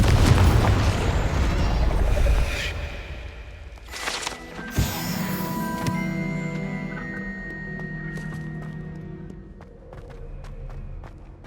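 A Confringo fire spell bursts in the Hogwarts Legacy video game, a loud booming explosion partway through, set against a dense, rumbling game soundscape with scattered impacts and tonal effects.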